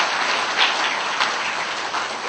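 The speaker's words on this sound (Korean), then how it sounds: "저 둔내 기동 박수 한번 쳐줘." A church congregation claps together in a steady, close wash of applause. It holds at an even level for a couple of seconds, with no voices on top.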